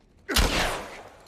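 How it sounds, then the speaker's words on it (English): Gunfire in the video game The Last of Us: a sudden loud burst of shots starting about a third of the way in, then a sustained rumbling decay that trails off to quiet. "Nice shooting, Tex."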